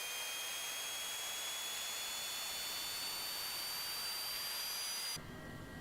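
A Cessna Longitude business jet engine in Microsoft Flight Simulator 2024 spools up with a steady, loud, airy hiss and a thin rising whine, then the tone drops abruptly near the end.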